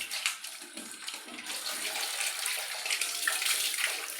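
Water runs from a tap while a plate is rinsed, a steady close splashing rush that grows slightly stronger toward the end, with no voices.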